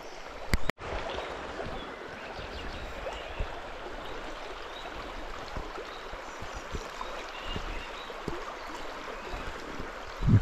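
River water rushing below a small waterfall and weir in southern France, a continuous close wash of flowing water with a couple of sharp knocks near the start and end.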